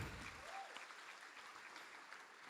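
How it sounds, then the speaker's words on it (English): An audience at a product presentation claps in a dense, steady wash of applause that carries on evenly from start to finish, with a faint voice underneath near the beginning. "please give a big round of applause to our Applephenon jelly stick"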